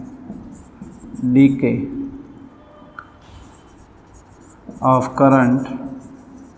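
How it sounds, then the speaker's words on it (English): A pen scratches steadily as a heading is written during a physics lecture, with the lecturer talking briefly over the writing. "So this is called, let's write heading"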